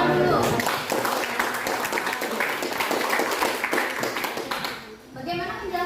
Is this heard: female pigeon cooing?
no